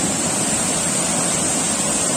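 Steady, dense roar of a rocky waterfall, constant and loud with no pauses, close by.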